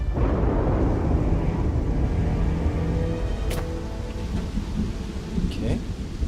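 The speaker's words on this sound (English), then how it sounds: "We got thunderstorms." Thunderstorm in the video game Starfield, heavy rain hissing continuously while deep thunder rumbles roll underneath, with a couple of sharper crackles later in the passage.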